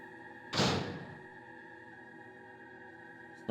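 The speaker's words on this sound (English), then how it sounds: "I feel like that door shouldn't have been able to open, actually." A door opening in the Resident Evil video game: a single heavy thud with a rushing creak, close and fairly loud, then decaying into a steady low ambient hum.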